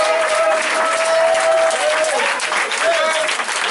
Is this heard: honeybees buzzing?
no